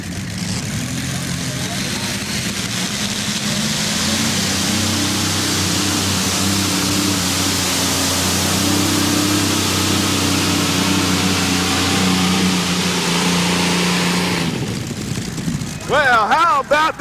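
Fuel-injected Allison aircraft engine powering a modified pulling tractor at a tractor pull, a loud, sustained roar with a steady droning hum over a wide rushing noise, fading out near the end under crowd and announcer chatter.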